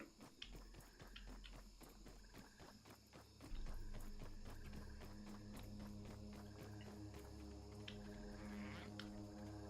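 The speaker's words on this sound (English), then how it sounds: "it's just a weevil. I heard that sound, and I'm like, is that buzzing?" An insect buzz from a weevil in the video game Grounded, a steady droning that runs under dense layered game ambience with ticking, clip-clop-like steps, and louder from about the midpoint on.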